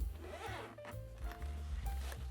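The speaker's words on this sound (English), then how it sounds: "The zippers operate smoothly." Zippers run along the double-zipper, crush-proof case of an underwater drone backpack in several quick, close pulls with soft rasping strokes, heard alone in a quiet room.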